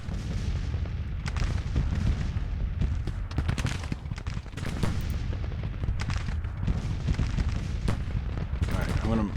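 Cannon fire from a Civil War battle in a strategy video game, with repeated booming artillery blasts and rumbling impacts over a dense battlefield din, shots landing irregularly throughout.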